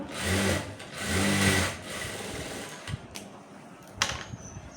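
A sewing machine stitches a dress pant in two steady running bursts of about a second each, then falls quiet with only faint handling clicks and a sharp tap near the end.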